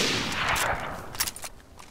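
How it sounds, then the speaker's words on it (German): Gunfire from the DayZ video game: a burst of sharp shots, close and loud at first, then a few scattered cracks trailing off over two seconds, with no voices heard. "Ich glaube, wir brauchen ja, noch 2-3 Schüsschen von dir."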